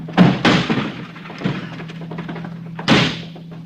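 Several heavy thuds as a locked door is kicked repeatedly, three or four loud impacts spaced unevenly, with a low hum underneath.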